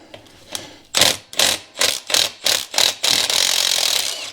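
Impact wrench with an impact socket spinning off axle nuts, several short rattling hammer bursts in quick succession followed by one longer sustained burst, loud and close with no talking.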